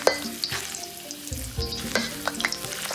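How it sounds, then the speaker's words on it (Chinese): Ginger slices and scallion pieces stir-fried in a little oil left in the wok, with steady close sizzling and crackling broken by several scraping stirs of a spatula, no talking. "我们放入姜片和葱节。 稍微煸炒一下"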